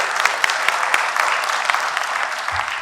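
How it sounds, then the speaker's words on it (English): An audience applauds after a talk at an engineering college lecture event, with a dense, steady clapping that carries on evenly throughout. "let's give a very big, loud round of applause for that presentation"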